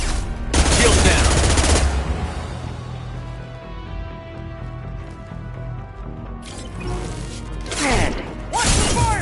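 Sustained gunfire from a Mass Effect 2 firefight: loud rapid bursts open the scene, give way to a lower rumbling lull, then return as sharp volleys near the end, close and dense.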